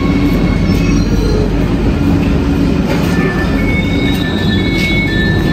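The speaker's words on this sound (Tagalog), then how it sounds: "Ito na guys, ito yung train namin." A passenger train at a station rolls past close by, a loud steady rumble of wheels on rails with high metallic squeals rising and fading over the noise.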